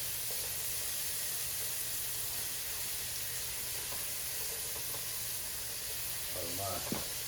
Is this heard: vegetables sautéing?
yes